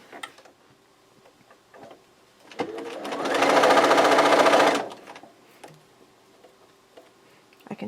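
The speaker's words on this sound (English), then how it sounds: "I'm going to show you 2 more of these so that I can show you how I chain sew them." A sewing machine chain-sews quilt fabric pieces in one steady, loud burst of rapid stitching lasting about two seconds, with quieter handling clicks and rustles before and after.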